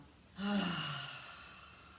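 One slow, deep breath is let out through the mouth, a soft airy exhale that swells suddenly and then fades over about a second, close and quiet.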